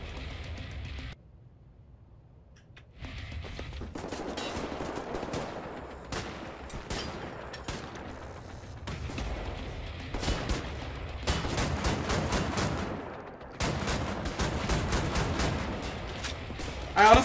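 Shotgun fire in the video game Wolfenstein: The New Order: a long series of heavy blasts and crackling bursts, irregularly spaced, some close together, over a low game background.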